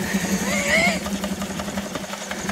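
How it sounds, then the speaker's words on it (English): An 1891 Russell portable steam engine runs with a steady, rhythmic chuffing and mechanical beat near the microphone, while people talk over it. "Steam comes out of the piston, going through the preheater, up the stack."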